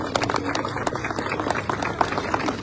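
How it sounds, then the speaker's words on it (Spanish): Outdoor crowd applause at the inauguration of the Parque Jurásico in San Bernardo, a quick, crisp patter of many hands clapping at moderate volume with a light murmur underneath. "un aplauso para todos y un aplauso para los dinosaurios que están súper bonitos también"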